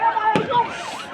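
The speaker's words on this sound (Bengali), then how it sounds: "গ্রেনেড সাউন্ড গ্রেনেড মারা হচ্ছে" A sound grenade bursts once with a sharp, loud crack during a street protest against police, amid wavering, siren-like tones and raised voices.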